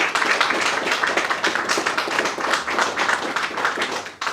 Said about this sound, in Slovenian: Aplavz, prosim.